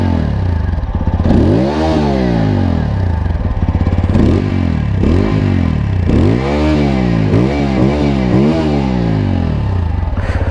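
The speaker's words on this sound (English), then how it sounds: "Let's hear the exhaust note first." A TVS Apache RTR 200 4V motorcycle, a 2021 BS6 model, revs its exhaust in a series of sharp throttle blips that rise and fall repeatedly, loud and close, with no talking.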